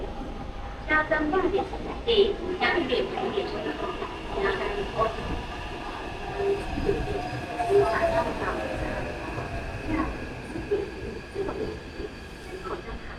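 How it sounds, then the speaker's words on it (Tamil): A Taipei Metro train pulls into the station with a steady, continuous rumble of wheels on rail and a faint high whine, with voices murmuring underneath throughout. "Train is approaching. in the Taipei Metro system."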